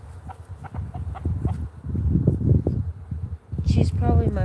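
A vocal backyard chicken clucks repeatedly in short, close bursts, with a sharper squawk near the end.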